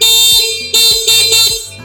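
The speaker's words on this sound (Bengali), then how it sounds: "চমৎকার হর্ন এটা" A three-wheel electric bike's electronic horn sounds loud and close, a harsh multi-tone wail in several sustained pulses that shift pitch.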